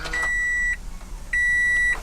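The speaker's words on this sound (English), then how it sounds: "Let's close the door so it doesn't beep." A car's door-open warning chime sounds with the engine running: two long, steady electronic tones with a gap between them. A low engine hum continues underneath.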